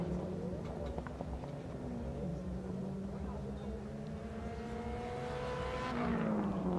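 A rallycross car roars past at wide open throttle on a Kenyan rallycross course, its engine note rising and shifting as it passes, with a voice talking over it.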